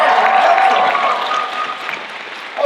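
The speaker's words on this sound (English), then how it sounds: "Well, give that a round of applause." Audience applause at a One Piece live-action fan convention panel, a steady wash of clapping from a crowd that holds strong for about two seconds and then eases off slightly, with no talking over it.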